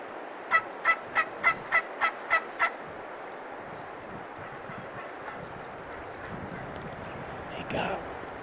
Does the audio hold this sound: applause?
no